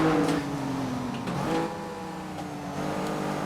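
Rival Back to the Future DeLorean cars race in a video game, their engines droning loudly and close with harmonic whines that shift pitch as they rev and change gear.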